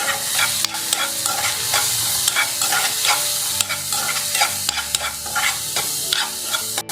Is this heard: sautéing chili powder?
yes